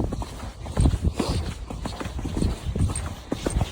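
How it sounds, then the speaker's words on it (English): A ridden horse trots hands-free on an equine yard, its hooves clip-clopping in a steady, close rhythm with faint background noise. "I am literally riding this horse non-handed the whole way"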